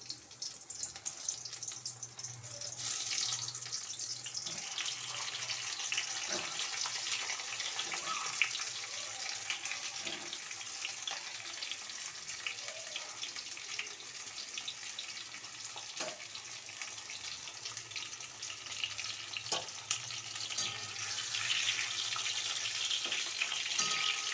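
Stuffed pointed gourds frying in hot oil in a wok, a continuous hissing sizzle that stays steady and close for the whole stretch, with occasional faint clicks.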